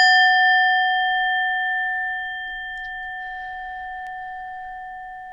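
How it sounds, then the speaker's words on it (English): A singing bowl struck once rings out with a clear, sustained tone that slowly decays over several seconds in a quiet room, with no one talking. "I'm going to chime my singing bowl"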